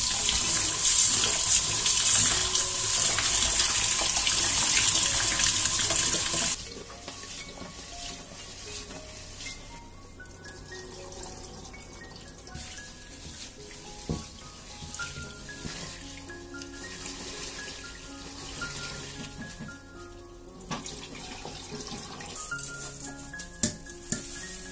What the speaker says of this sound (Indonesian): Nah pertama kita cuci beras ketannya dulu.